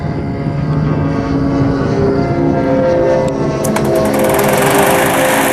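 A loud, steady buzzing drone from a tiny ultralight twin-engine plane, its two small chainsaw-sized motors revving high, continuous throughout with a slight rise in pitch toward the end.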